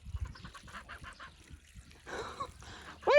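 Geese in a paddock honk in a rapid series of nasal calls, then pause and honk again, with one loud close honk at the end.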